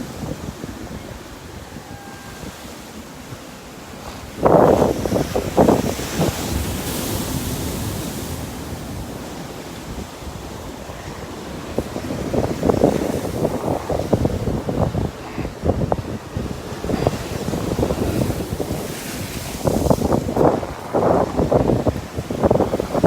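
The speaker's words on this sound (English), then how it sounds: "So the water is still pounding very hard." Sea waves pounding rocks in the winds of Tropical Storm Karen, a steady roar of surf and wind noise with heavy crashing bursts recurring throughout.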